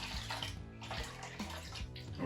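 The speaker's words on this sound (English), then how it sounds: "Add your heated water" Heated water pours steadily into a measuring cup for a Belgian extract home brew, a continuous close splashing stream with shifting tone lasting about two seconds, no talk.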